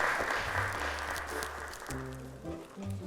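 Applause from a children's television show audience, welcoming a child to the stage, a short burst of steady clapping that fills the moment before fading slightly.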